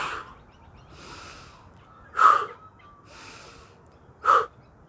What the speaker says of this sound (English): Squeeze and exhale.